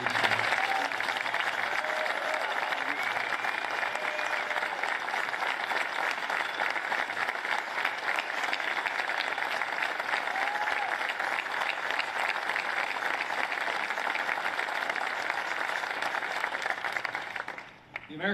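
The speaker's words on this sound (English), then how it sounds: "Would you join me in a round of applause for every man and woman here who's worn the uniform of the United States Army?" An audience at a Fabick Cat Caterpillar facility in Fenton gives sustained applause honoring Army veterans, with steady, dense clapping at an even level before it tapers off.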